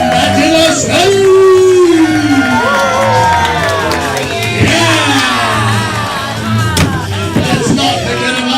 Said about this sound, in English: Let's start clapping. Let's start screaming. Let's make some noise